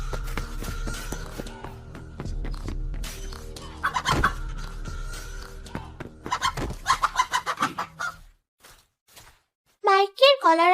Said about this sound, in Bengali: মুরগিটা তো অনেক শব্দ করছে